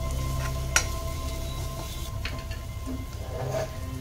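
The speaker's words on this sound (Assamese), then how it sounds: "এনেকৈ মই এইখিনি মছলাখিনি অলপমান ভালকৈ ভাজি ল'ম" Panch phoron whole spices frying in a hot pan for an Assamese steamed egg curry, a steady soft sizzle and crackle with a few sharp clinks of utensil against the pan.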